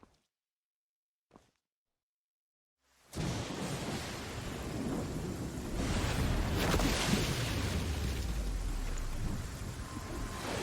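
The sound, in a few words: heavy rain at night in the video game Where Winds Meet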